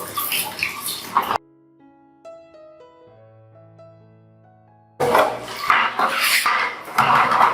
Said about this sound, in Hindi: और इसको हम वॉश कर देते हैं साफ पानी से।